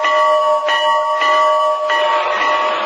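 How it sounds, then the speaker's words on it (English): A farm bell ringing loud and close, with sustained metallic tones and a few repeated strikes that sound steadily through the whole stretch. "the bell signals a nuclear attack in these parts"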